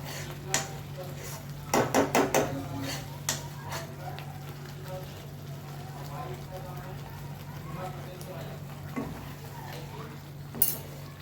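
Spice masala with turmeric and biryani spice powder frying in a pan for prawn biryani, with a cluster of metallic spoon-on-pan clanks and stirring over a low steady hum, while a voice talks.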